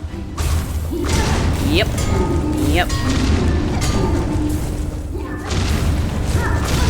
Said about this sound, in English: The explosions are so bad.